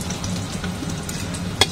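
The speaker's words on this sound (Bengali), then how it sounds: "পেঁয়াজটা আমি নেড়ে চেড়ে নিব।" Onions fry in a pan with a little salt, sizzling steadily while being stirred, close up, with a single sharper scrape of the utensil near the end.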